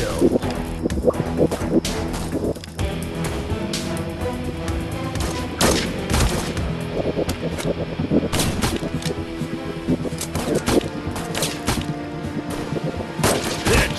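Rapid sniper rifle gunfire from the Sniper Arena shooting video game, a dense stream of sharp overlapping shots and bursts over a steady loud background, with an announcer's voice occasionally calling out.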